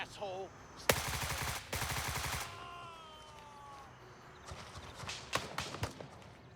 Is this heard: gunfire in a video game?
yes